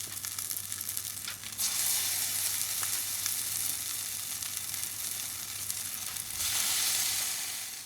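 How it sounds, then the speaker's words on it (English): Rice cakes sizzle and fry steadily in hot oil in a pan, a continuous close crackling hiss that swells louder near the start and again toward the end, with no talking. "We're putting our fish cake, our rice cakes into the pan for around 4 minutes each side until they're golden brown"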